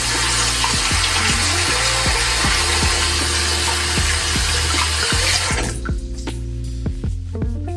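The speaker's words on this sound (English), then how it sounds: "Step two is washing my hands." Running tap water pours steadily into a sink while hands are washed underneath, a loud continuous splash that cuts off near the end, leaving faint drips and handling sounds.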